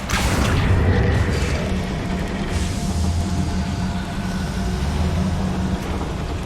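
Casting fire and summoning spells in the Hogwarts Legacy video game sets off a rumbling boom and whooshing magic effects, layered over a continuous loud game soundscape, with no speech.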